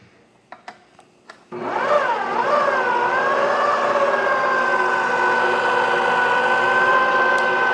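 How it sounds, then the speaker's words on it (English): An electric mixer kneads pizza dough at low speed. A few light clicks come first, then the motor starts and settles into a loud, steady whirring hum with a slight wavering pitch that runs on without a break. "the trick is to make sure that the dough gets spun on a very low speed. And it's going to mix for 10 minutes"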